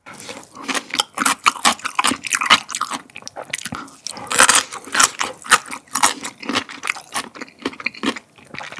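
Crunchy, spicy jumbo fried chicken legs being bitten and chewed up close, with dense, crackling crunches repeating steadily and loudly throughout and no talking.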